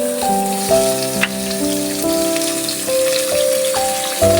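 Mutton for achar gosht goes into hot oil with browned onions, raising a dense, loud, rain-like sizzle that crackles steadily throughout while soft background music plays.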